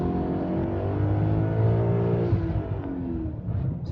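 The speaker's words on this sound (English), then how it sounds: "I'm going to step on the gas and let's see what happens." BMW E39 M5 in sixth gear with a slipping clutch, engine revving up in a rising, droning rumble heard from inside the car, sustained for a few seconds before easing off.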